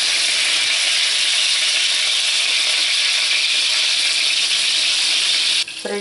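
Steady, dense sizzling of meat patties frying in a covered pan, continuous and fairly loud, with a brief clatter near the end.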